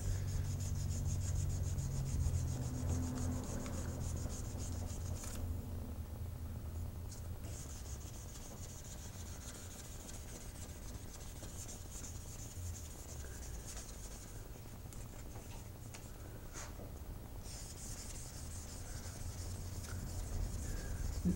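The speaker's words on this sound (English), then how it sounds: "I'm just gonna keep sanding like this, avoiding the wood, getting those out." Hand sanding on a knife handle produces a quiet, continuous scratchy rubbing, with strokes shifting slightly in texture as it carries on steadily and alone.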